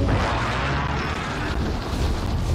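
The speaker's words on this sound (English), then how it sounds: "Be advised, friendly precision airstrike inbound." Precision airstrike explosions in the video game Call of Duty make a dense, sustained rumbling roar of blasts that stays loud and continuous throughout, with no voices over it.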